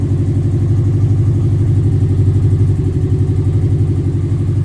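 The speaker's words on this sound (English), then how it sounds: "Or maybe it just has a hole in the exhaust." A 1998 Subaru Forester S engine idles with a steady, low, uneven putter and a throaty rasp from a leaky exhaust, loud and close, running without pause.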